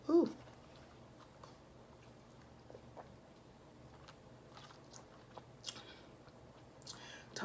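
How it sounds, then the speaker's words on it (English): Quiet, close chewing of sausage and chicken gumbo, soft wet mouth sounds and small crunches scattered across the stretch, with faint breathy voice sounds at moments. "Talking and chewing, not a good thing."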